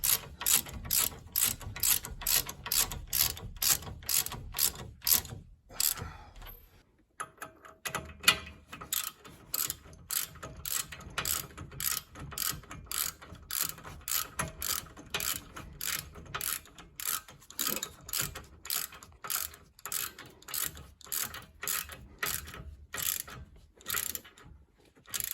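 A ratchet wrench snugs up 19mm steering bolts on a Cherokee, clicking in rapid, steady bursts close up, with a short pause partway through and then continued ratcheting, no talk.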